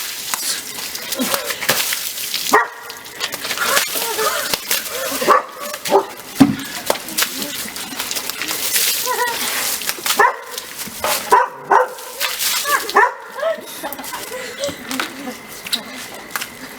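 A dog barks and whimpers repeatedly in sharp, irregular bursts close by, mixed with people talking and shrieking around it in a cold outdoor water setting.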